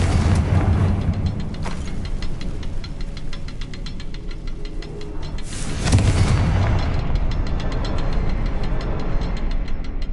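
Confringo blasting spells in the game Hogwarts Legacy go off as heavy booming explosions, one in the first second and a louder burst near six seconds, over a dense, continuous roar of crackling game effects.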